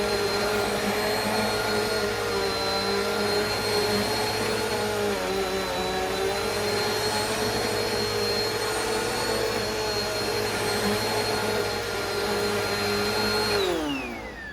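A Bissell CleanView Rewind Swivel upright vacuum cleaner runs close by after a belt change, giving a loud steady motor whine with a constant high tone that winds down sharply at the end, with no voices.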